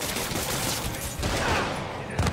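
Rapid bursts of gunfire in a Spider-Man video game, a dense crackling barrage that runs for a couple of seconds at moderate loudness, alone without speech.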